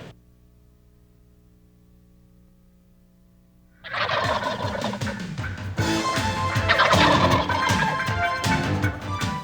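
A wild turkey gobbler lets out loud, close gobbling in a spring woodland, a rapid rattling burst that breaks a near-silent stretch with a low hum, and no one speaks.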